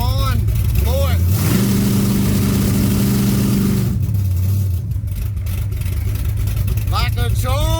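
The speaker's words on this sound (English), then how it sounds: "Trans brake's still on. Floor it." A 1980 Trans Am's engine held on the trans brake runs loud and close, climbing into a sustained high rev for a couple of seconds before dropping back to a rumbling idle, with talk over it.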